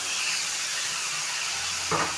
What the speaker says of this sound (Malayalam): നമുക്ക് ഏകദേശം ഒരു 1/2 കപ്പോളം വെള്ളം ഒഴിച്ചു കൊടുക്കാം.